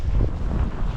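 Wind gusts in a Quebec snowstorm roar steadily against the microphone, a dense low rumble that holds for the whole moment with no voices.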